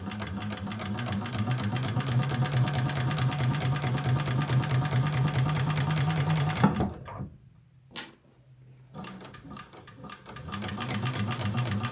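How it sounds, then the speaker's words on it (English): Sewing machine running a line of faux top stitching on leather for a double-sided tote, a fast steady needle chatter for several seconds, then a pause with a few short bursts before stitching resumes. "This is kind of just like faux top stitching."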